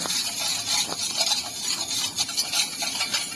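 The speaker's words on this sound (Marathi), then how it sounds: "जोपर्यंत विरघळतं तोपर्यंत असं ढवळत राहायचं" A spoon stirs a watery besan dhokla batter mix to dissolve sugar, lemon salt and salt, giving a close, continuous swishing and scraping with light clinks against the bowl.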